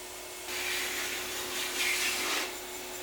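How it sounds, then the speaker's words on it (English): A power sander smoothing the edge of a wooden longboard, its steady hum and abrasive rasp rising for about two seconds over a constant machine whine, then easing off. "I can then clean that edge up using the sander"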